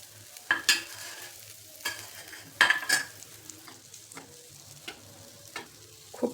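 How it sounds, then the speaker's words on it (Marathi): Leftover stuffing masala for stuffed bitter gourd being stirred and fried in a pan until crisp, with a series of close scraping stir strokes and utensil clinks over a faint, low sizzle. "तर आता ह्याचा जो शिल्लक राहिलेला मसाला आहे ना, तो म्हणजे असं परतून घ्यायचा छान कडक होईपर्यंत."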